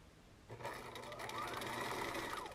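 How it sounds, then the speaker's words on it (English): A domestic sewing machine stitches a seam on a cloth face mask, its steady, fast whirring starting after a brief quiet moment and running on close and even. "you're going to want to sew maybe about a quarter of the way"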